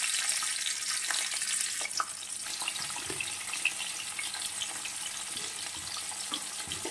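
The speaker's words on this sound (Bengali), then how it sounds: "এরপর আমি বিনসগুলোকে সামান্য নুন দিয়ে ভেজে নেব।" Green beans frying in oil with a little salt give off a steady, close sizzle and crackle that holds evenly throughout, with no talking.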